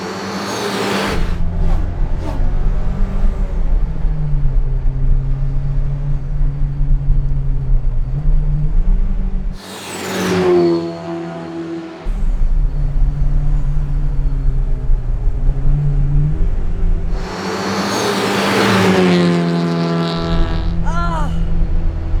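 Turbocharged 1974 BMW 2002 running a hot-rodded M3 powertrain makes a loud, steady engine drone, dipping briefly twice between bursts of higher engine sound, with people talking over it.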